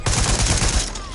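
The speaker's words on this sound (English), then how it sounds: "Suspect is shooting!" A shooting suspect fires a rapid burst of gunshots, loud and close, the shots running together in quick succession for about a second.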